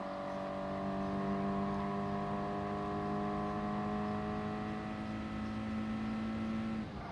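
Race car engine in GT Sport held at steady high revs, a loud sustained whining drone with smooth harmonic tone and only slight pitch drift, continuous for about seven seconds until it briefly dips at the end.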